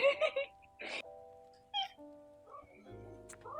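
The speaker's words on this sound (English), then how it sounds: "I just heard a cat" A pet cat meows several times in quick short calls, close and fairly quiet indoors, followed by a few softer scattered sounds.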